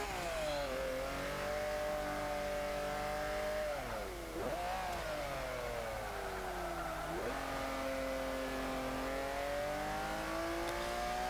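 A 1940 Ford De Luxe Coupe with a bigger turbocharged engine revs hard in the Forza 5 racing game, a continuous loud engine drone rising and falling in pitch with a few sharp dips, with no talking over it.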